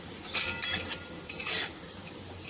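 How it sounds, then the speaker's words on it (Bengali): Onions are stirred as they fry in a pan for an egg curry, with four or five quick scraping, clinking strokes over a soft sizzle. "ঘন ঘন নেড়ে দিতে হবে, নাহলে কিন্তু পেঁয়াজগুলো একদম পুড়ে যাবে।"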